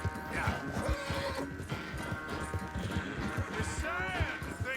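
A horse in Red Dead Redemption 2 gallops with rapid rhythmic hoofbeats while whinnying and neighing loudly, with game sound effects layered over the running.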